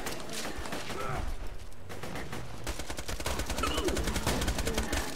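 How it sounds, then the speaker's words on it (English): Rapid automatic SMG fire in the video game Borderlands 2, dense and continuous bursts with mechanical clatter filling the whole stretch, with voices talking underneath during co-op play. "Ah, I love using the SMG on this on this guy."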